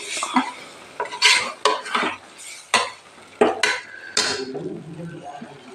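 Chicken pieces going into a pot for chicken biryani, with several clattering scrapes and knocks of a utensil against the metal pan and soft sizzling between them, close and moderately loud.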